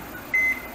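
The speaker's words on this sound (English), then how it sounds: "we have to microwave it a little" A microwave oven gives a single clear electronic beep as it is set to soften butter, sharp and close against a faint room hum.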